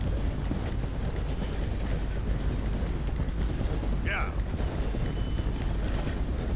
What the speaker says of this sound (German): Mein Pferd kann nicht mehr.